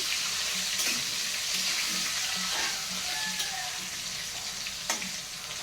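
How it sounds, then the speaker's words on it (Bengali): Potatoes fry in a pan with turmeric, giving a steady close sizzle with a few scattered stirring taps and no talking. "নামিয়ে নেওয়ার পর এই দেখো আমি হলুদ দিয়ে দিচ্ছি। তারপরে ভালো করে ভেজে নিচ্ছি।"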